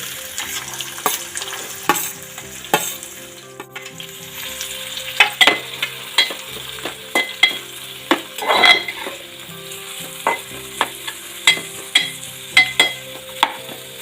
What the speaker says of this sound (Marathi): आपण याच्यात आता कांदा घालूया।